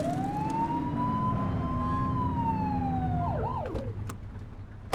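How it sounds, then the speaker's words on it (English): Police car siren in the video game The Precinct wails in a long rising and falling sweep, then switches to a quicker yelping pattern over a constant engine and road rumble, loud and close throughout. "Get on their tail and flip the siren"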